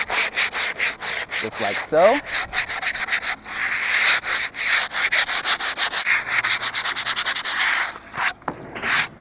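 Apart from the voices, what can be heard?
sanding edges of skateboard grip tape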